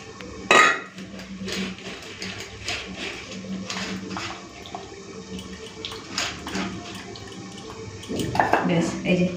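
Raw tamarind water is strained for a tangy Bengali rohu fish curry: splashing liquid and clinking kitchenware, with a sharp clatter near the start and more pouring toward the end, while a voice briefly speaks.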